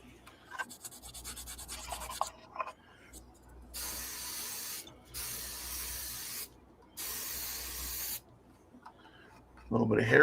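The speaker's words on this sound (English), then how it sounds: "A little bit of hairspray." Hairspray from an aerosol can, used to prep a scale model for paint chipping, hisses out in three steady bursts of roughly a second each with pauses between, close and fairly loud.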